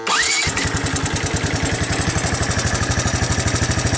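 The starter cranks briefly on a 1984 Honda ATC 200ES three-wheeler, and then the small single-cylinder engine catches and settles into a steady, loud, close-up idle with a rapid, even thumping beat.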